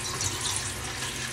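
Tap water runs steadily into a vessel for measuring before cooking Maggi noodles, a short continuous close splash and trickle with no speech.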